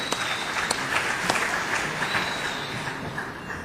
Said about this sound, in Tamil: இதே மாதிரி கைத்தட்டல் எங்களுக்கு கிடைச்சது.